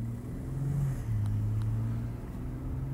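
A 2018 BMW X3 pulls away again after braking, its engine a steady low drone that rises slightly in pitch, heard from inside the car with no talk.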